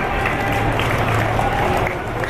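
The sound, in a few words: light applause from audience at a mushaira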